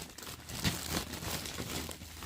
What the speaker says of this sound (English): I'm just going to cut this bag right on open.